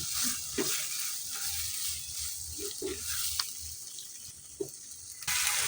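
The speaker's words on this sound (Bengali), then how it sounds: "এবার আমি ভালোভাবে মিক্স করে নিচ্ছি।" Soft stirring of pasta with Maggi masala and grated carrot in a pan, a gentle sizzle with faint scraping taps of the spoon, quiet and continuous without talk.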